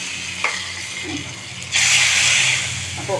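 Hot tempering with fenugreek bursts into a loud, sustained sizzle as it is poured into Kerala-style ripe mango curry (mambazha pulissery), after a quieter stretch; a voice talks briefly in the kitchen.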